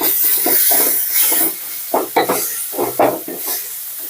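Tomato frying in oil in a pan for chicken gravy, a close hiss and sizzle under repeated scraping stirs of a spoon, loud and busy in bursts, with no speech.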